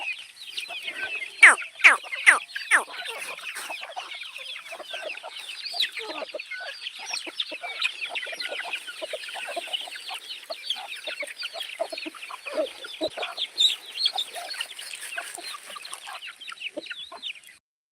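A flock of free-range desi chickens and chicks on a farm clucks and chatters continuously at feeding time, many birds overlapping at close range, with a few louder squawks early on.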